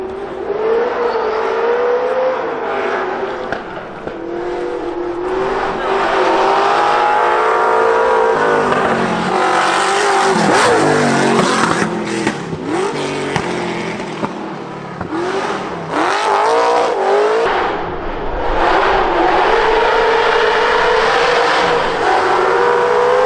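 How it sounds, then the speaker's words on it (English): A Forenza V8 car accelerating hard up the Shelsley Walsh hill climb course, its loud engine note rising and falling through gear changes as it passes close by, continuous for the whole stretch. "This amazing Forenza V8 going up the hill just sounds incredible."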